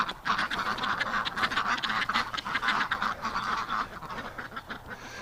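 A crowd of ducks quacks at the door, waiting for fresh straw and food on a cold winter night. The quacking is close, busy and continuous, with many overlapping calls.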